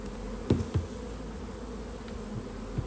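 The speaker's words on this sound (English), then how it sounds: "we're going to take it just to gently knock the bees right there onto the frame" Honeybees hum in a dense, steady drone close by as they are knocked from a frame feeder onto a hive frame, with a couple of soft dull knocks early and scattered light taps afterward.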